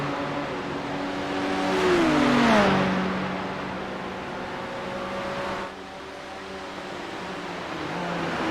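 GT3 race cars, a Ferrari and a BMW, run down the long straight at Mount Panorama, one engine note rising and then falling as it passes, with steady engine drone continuing after.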